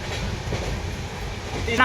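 Inside a moving passenger train travelling from Palanpur toward Haridwar, a steady rumble of wheels and carriage runs throughout. A voice briefly cuts in near the end.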